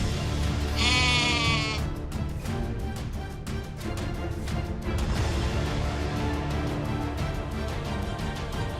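A goat is beaten with a stick in a town square and gives a loud, wavering bleat near the start, followed by a dense run of sharp knocks and cluttered noise.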